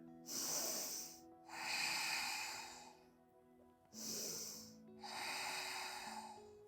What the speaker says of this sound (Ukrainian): Глибокий вдих, піднімаємо знов коліна, буквально декілька сантиметрів, фіксуємо вдих.